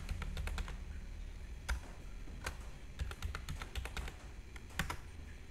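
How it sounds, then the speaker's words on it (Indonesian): Keys clatter on a computer keyboard as an email address and password are entered at a login page, a run of quick, uneven taps with short pauses, close and moderately loud over a steady low hum. "Contohnya di sini adalah langsung ketik saja emailnya"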